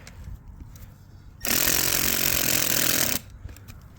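A power drill fitted with a long quarter-inch bit bores for under two seconds, a loud, harsh whine that starts and stops abruptly between quieter handling noises.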